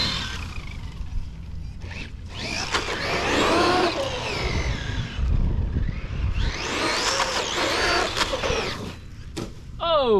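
A Traxxas Maxx 4S RC monster truck drives on grass, its electric motor whining and surging in two loud bursts with a rising pitch, separated by a quieter lull and brief clatter.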